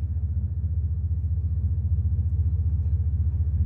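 A GMC Jimmy's engine rumbles steadily at a low, throbbing idle-to-rev level, a loud continuous pulsing drone with no voices over it.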